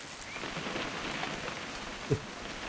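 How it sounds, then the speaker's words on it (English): Steady rain pours down in a game scene from What Remains of Edith Finch, a broad even hiss that runs throughout, with one brief low knock near the end. "It's gonna rain the whole weekend, isn't it?"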